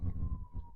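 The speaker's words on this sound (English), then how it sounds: "as I hear sirens right now" An emergency siren wails outside in a brief, steady tone, faint and low under a rumble of background noise with no talk.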